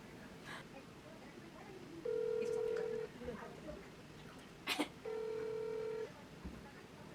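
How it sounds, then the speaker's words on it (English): A phone call is placed, and two long ringback tones sound at an even interval, faint under a noisy background with a short clatter between them. "So we're gonna call him"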